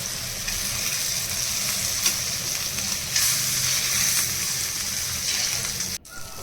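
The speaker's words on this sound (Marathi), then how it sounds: "चांगलं खरपूस दोन्ही बाजूने 2-3 वेळा पलटून तळून घेऊया." Fish sizzles steadily in hot oil as it is fried crisp and turned on both sides, a close, continuous hiss with brief flares that cuts off abruptly near the end.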